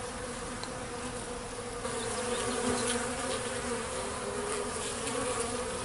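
Golden Italian honey bees flying around sugar-water feeders, a dense, continuous buzzing hum from many wings close by, growing slightly louder partway through, with faint outdoor background.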